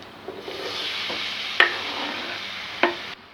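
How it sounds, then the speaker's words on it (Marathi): Chopped red tomatoes cook with garam masala, red chili powder and turmeric in a pan for Marathi-style dal tadka, a soft continuous sizzle broken by a few sharp scrapes and clinks of a stirring spoon. "आता हा टोमॅटो चांगला मऊ होईपर्यंत शिजू द्यायचा आहे"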